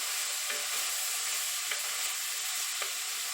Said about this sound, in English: now these are pinto beans and black beans. We're just going to mix them around in there.